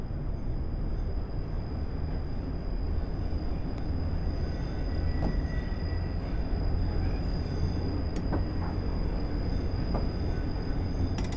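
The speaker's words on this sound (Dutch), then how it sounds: "This train is for Shanklin." Train running on rails in a train simulator game on an island line to Shanklin: a steady rumbling roll of wheels with a constant high whine and occasional clicks of rail joints, no speech.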